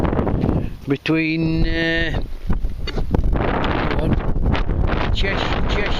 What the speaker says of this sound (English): this wind's blowing a gale anyhow